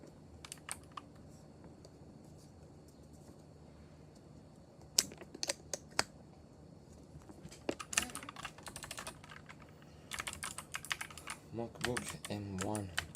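Typing on a MacBook M1 keyboard comes in scattered bursts of quiet clicks, sparse at first and then denser near the end, recorded close up in a quiet room with faint background hum.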